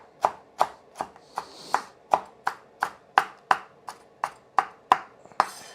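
Bacon chopped with a knife on a cutting board: about fifteen sharp, evenly spaced chops close by, each a crisp thud with a brief ring, steady rhythm throughout.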